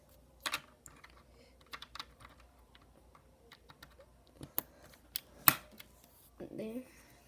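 Sparse clacks from a keyboard fitted with lubed mechanical switches, a few soft key presses scattered irregularly with one sharper tap, quiet and close, faint room noise between strokes.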